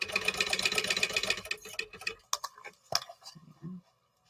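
A sewing machine runs in a rapid, even stitching burst while sewing a 1/4 inch seam on a crossbody bag, then stops, leaving scattered clicks and handling noises.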